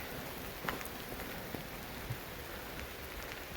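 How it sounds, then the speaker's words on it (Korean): Rain comes down outdoors on a Sunday in a dense, steady patter, with a few distinct louder drops or splashes standing out against the continuous hiss; no voices are heard. "지금 빗줄기가 좀 굵어지고 있습니다."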